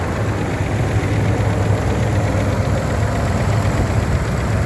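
A 2017 Ford F-350 truck's 6.2-liter engine idling steadily, a continuous low rumble with a faint knocking texture, close and even throughout.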